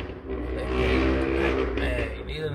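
A loud, steady car exhaust drone with low rumble runs throughout, swelling slightly midway, with a rough, harsh tone and some broadband noise on top.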